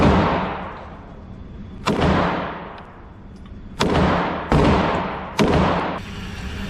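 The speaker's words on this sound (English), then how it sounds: "I know I'm shooting to the left." Glock pistol fired at a target about 25 to 30 feet away: five sharp, loud gunshots at irregular intervals, each followed by a long echoing decay, no speech.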